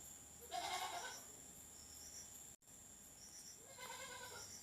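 Two goat bleats at a livestock market where a goat is being bought, one near 0.5–1.2 s and a second near 4 s, over a steady low background hum with no talk.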